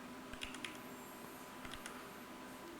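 Quiet clicks on a computer keyboard as Ctrl+A and Ctrl+C shortcuts are pressed, a few short clustered taps in two brief bursts over low background hum.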